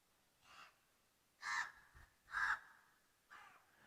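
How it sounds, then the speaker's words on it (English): Several loud, rasping caws from an agitated crow perched up high come in an uneven series of four bursts with short pauses between them. "There's a crow up there that's angry as buggery."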